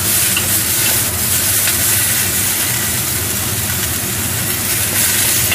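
Pork shank and other ingredients are stir-fried in a wok over high heat. A loud, continuous sizzle and crackle carries the scrape and toss of stirring throughout.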